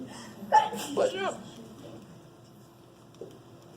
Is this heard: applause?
no